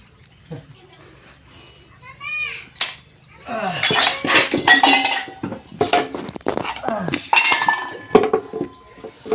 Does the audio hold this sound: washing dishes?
yes